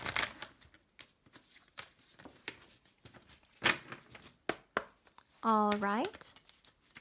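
Tarot cards handled in a reading: a run of quick papery riffles, flicks and slaps of card stock in bursts, close and fairly soft, with a brief spoken phrase and a short humming vocal near the end.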